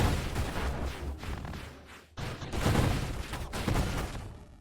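Rapid, dense bursts of shooting and booming blasts from the space shooter game Nova Drift fill the mix at close range, forming a continuous barrage with a brief dip near the middle before the volley resumes.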